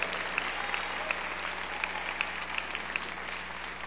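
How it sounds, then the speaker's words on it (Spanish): A church congregation gives a strong round of applause during a service, with dense, continuous clapping and a few sharper claps standing out. "¿por qué no le damos un fuerte aplauso al Señor en esta hora?"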